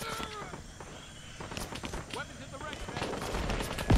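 Bursts of rifle and machine-gun fire crackle in a battle against a tank in a Vietnam war mod for the video game Call to Arms, with a voice talking over the shooting and a louder bang at the end.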